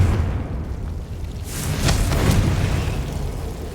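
The Confringo explosive spell goes off in a video game with a deep rumbling blast that swells midway, two sharp crackling bursts riding on top before it fades into a low roar.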